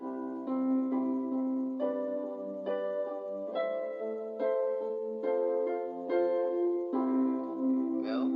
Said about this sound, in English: when I play a 1-5-6-4 chord progression